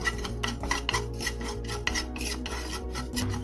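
Carom seeds and black cumin dry roasting in a pan, a close rhythmic rasping scrape of stirring with a faint low hum beneath, no voices.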